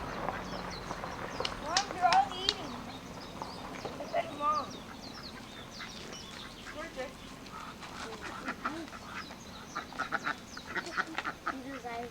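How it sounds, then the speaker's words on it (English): Ducks quack in scattered bursts outdoors at an arboretum in Hawaii among other bird calls, with people talking in the background throughout. "I stopped at this arboretum feeding ducks"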